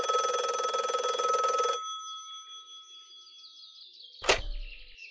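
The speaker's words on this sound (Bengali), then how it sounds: "2 দিন পর সকালবেলা কিন্তু নীলকণ্ঠবাবু সত্যিই ফোন করলেন" A sound-effect telephone rings for almost two seconds with an electronic trill, then falls silent. A sharp swishing whoosh follows near the end.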